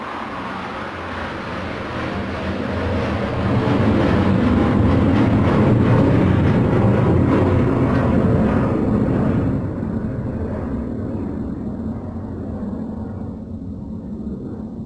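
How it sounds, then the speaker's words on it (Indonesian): A Sukhoi military jet passing overhead produces a loud, broad roar that swells over several seconds and then slowly fades, with a steady rumble filling the whole stretch. "barusan lewat pesawat Sukhoi ya. Jadi agak bising."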